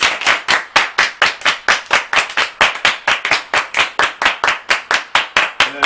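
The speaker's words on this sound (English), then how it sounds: "Everybody clap your hands." A group of people clap their hands together in a steady, even rhythm, about three to four claps per second, loud and close, with no talking over it.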